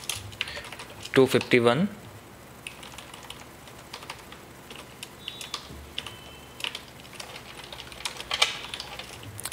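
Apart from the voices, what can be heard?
typing on a computer keyboard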